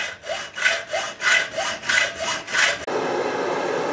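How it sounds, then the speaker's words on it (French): A hand saw cutting through a work-hardened metal tube, six rhythmic back-and-forth strokes with a rasping scrape, close and clear, followed by a steady hiss. "Donc je trace à l'endroit où je vais les scier."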